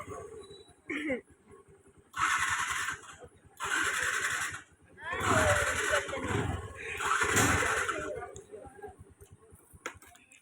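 A vehicle engine cranks repeatedly but does not catch, in four or five bursts of whirring and grinding with short pauses between them. It is close and loud, with low rumbling mixed in and some talk nearby on a roadside.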